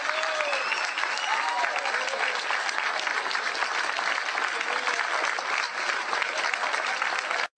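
Applause from a crowd at a political talk, a continuous dense roar of clapping at steady loudness that cuts off abruptly at the end.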